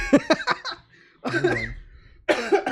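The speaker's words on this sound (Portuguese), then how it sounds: "A tosse de cachorro agora." Several harsh, barking coughs burst out in quick succession, then another rough coughing fit after a pause, close to the microphone.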